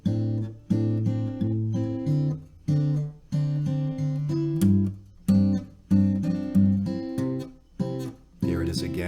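A guitar plays the bass line and chord parts of a song together at a slow, deliberate pace, with clear plucked notes and chord stabs that ring and decay between phrases.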